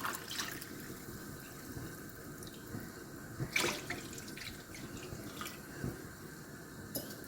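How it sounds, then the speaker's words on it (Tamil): Water pours in a steady, gentle stream into a pan for semiya kesari, with a few clinks and splashes, close by and fairly quiet. "அதே டம்ளரில் ஒரு டம்ளரு தண்ணி ஊற்றிக்கலாம்"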